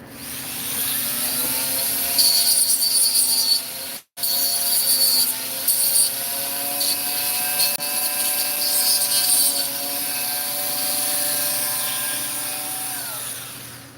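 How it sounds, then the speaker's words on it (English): A power tool sands down a robot part, a steady high-pitched whining motor with shifting tone as the workpiece is pressed, briefly cut off once and then resuming, continuous and fairly loud. "Let's sand this down a little bit."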